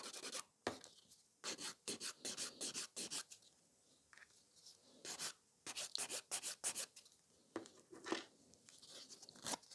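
A nail file scratches across a gel nail surface to shape a coffin-shaped nail, giving repeated short rasping strokes in quick bursts with brief pauses, close and fairly soft.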